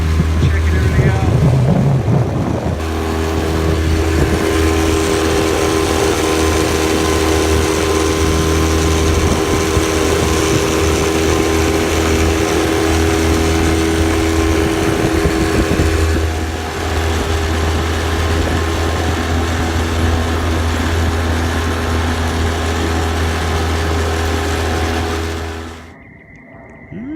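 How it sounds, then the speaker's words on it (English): A bass boat's outboard motor runs steadily on a main lake, a loud, continuous low drone with wind buffeting the microphone, cutting off abruptly near the end. "just coming out to run the motor a little bit"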